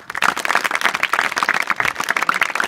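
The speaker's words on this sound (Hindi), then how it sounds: "और एक ताली आप अपने लिए बजा लें।" A large group of students at a girls' inter college claps for themselves, a brisk, loud burst of overlapping handclaps that starts sharply and stays busy to the end.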